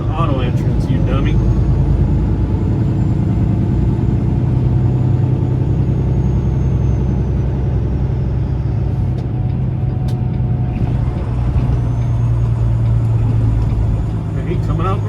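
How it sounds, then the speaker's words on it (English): A dump truck drives past an entrance with a heavy, steady engine rumble lasting throughout, loud and close, while people talk over it. "Dump truck going"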